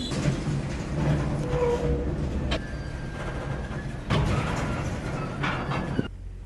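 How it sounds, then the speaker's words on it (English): A freight train backs up into cars near Stockton, California, with slack action: a continuous rolling rumble broken by sharp clanking bumps and squeals, heard from aboard. "there's a lot of slack action happening because we're backing up into cars"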